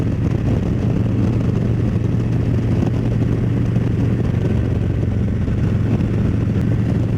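Motorcycle engine holding a steady low drone while cruising in sixth gear at about 75 mph, just under 3,000 RPM, with continuous wind rush and road noise throughout.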